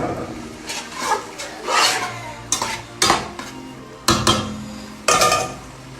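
Spaghetti being stirred in a pot of boiling water and sauce, with repeated bursts of scraping and clinking against the pot wall, fairly close and moderately loud, no talking.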